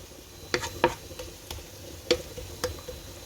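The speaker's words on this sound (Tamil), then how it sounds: "இஞ்சி முள்ளி வதங்குது." Ginger and garlic frying in oil in a pan: a soft, steady sizzle broken by scattered light ticks and crackling pops, fairly quiet with no talk.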